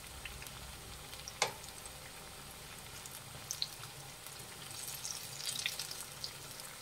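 Snake gourd bajji fry in hot oil over a medium flame, a steady, soft sizzle and crackle with occasional brighter pops and a faint clink near the start, no voices.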